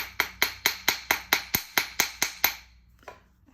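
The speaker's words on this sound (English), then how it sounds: "I have to hammer, so I will hammer quietly here" Thick jewelry wire being hammered into a pendant bail: about ten sharp, evenly spaced metallic strikes ring out close by, each with a brief chiming decay, then a couple of faint taps follow.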